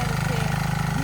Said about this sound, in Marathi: ट्रॅक्टर चालू